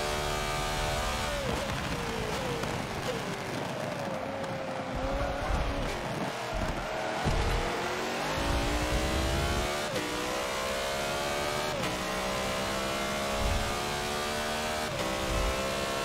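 A BMW M3 race car in a racing video game revs hard and accelerates, its engine note climbing and shifting through gears, loud and continuous, with faint tire squeal.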